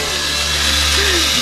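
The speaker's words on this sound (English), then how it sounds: "Where's the drill? Get the drill." A power tool, apparently a drill, runs with a steady loud whine for the whole moment, with a brief pitch shift partway through and no talking.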